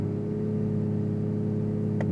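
A 2025 Aston Martin Vanquish engine held flat-out against its soft rev limiter in neutral, a steady, unwavering mechanical drone that stays pinned at one pitch throughout, close and continuous.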